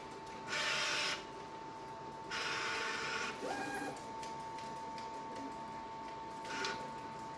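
A vinyl cutter feeds HTV vinyl back and measures it to the edge, giving two bursts of a loud, close mechanical whir followed by shorter motor movements and soft clicks over a steady hum.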